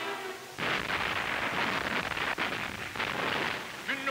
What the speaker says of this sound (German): Batterien schwerer und leichter Flak bekämpfen Bomber und Luftlandeverbände.